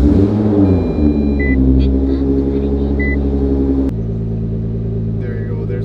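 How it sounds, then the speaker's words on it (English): A car engine with a fuel pressure sensor low input fault cranks for a long time, then catches and runs in a steady, loud, close rumble that shifts partway through. "So I'm gonna start the car, and look how long it takes it to start."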